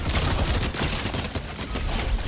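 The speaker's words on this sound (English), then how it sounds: "Bender's shiny metal ray gun" Bender's shiny metal ray gun from Futurama, firing in a video game as a rapid, dense barrage of shots that stays loud and steady from start to finish, with no talking.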